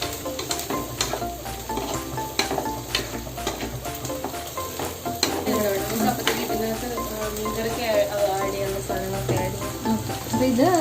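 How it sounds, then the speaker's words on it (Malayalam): Fish fried in a pan for a Kerala-style home lunch, a loud steady sizzle and crackle of hot oil that swells slightly over time, with faint clinks of utensils. "പിന്നെ നമ്മള് മീൻ വറുക്കാൻ ഇടാൻ പോവാട്ടോ."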